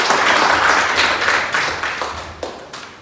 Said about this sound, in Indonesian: mari kita tepuk tangan dulu.